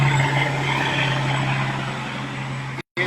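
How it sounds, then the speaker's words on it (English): A loud truck roars steadily past up close for nearly three seconds, a constant low engine drone with broad road noise, cutting off abruptly at the end. "That was a loud truck."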